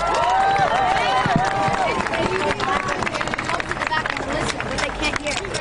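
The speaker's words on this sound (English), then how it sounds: "So let's give him a round of applause one more time." A crowd at a Black Lives Matter street march applauds and cheers, a dense continuous clatter of many hands outdoors, mixed with shouting voices and crowd babble.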